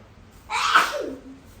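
One sudden, close sneeze bursts out against a quiet background.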